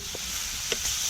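Butter, garlic and samphire sizzle steadily in a pan on a beach cookout as they are stirred, a continuous close frying hiss with a couple of soft utensil scrapes.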